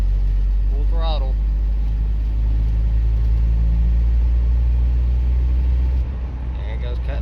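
A Toyota 22RE engine under full throttle while driving makes a loud, steady low rumble that holds throughout and dips slightly near the end, with a brief voice over the drone.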